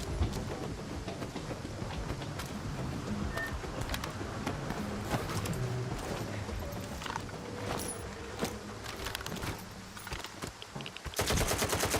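A gun in STALKER 2 fires in rapid, loud automatic bursts of sharp cracks that keep overlapping across the scene, thin out briefly near the end, then return in a final hard flurry.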